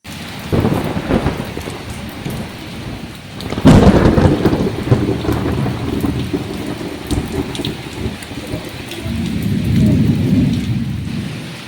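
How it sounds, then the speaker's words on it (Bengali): Heavy rain pours down outside in a steady roar, and a loud close thunderclap bursts partway through before the downpour carries on unbroken, with no voices. "বাইরে বিশাল ঝমঝম করে বৃষ্টি নামিয়েছে"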